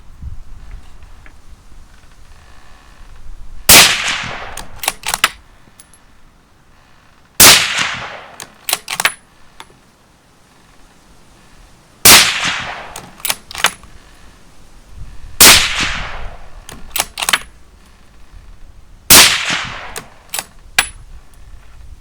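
A Mauser M12 Impact hunting rifle fires 30-06 rounds in five loud, sharp cracks spaced a few seconds apart. Each shot is followed by metallic clatter from the bolt being cycled.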